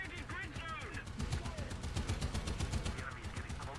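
Rhythmic machine gun fire in War Thunder, a steady run of rapid shots in the foreground with faint engine and battle noise behind it.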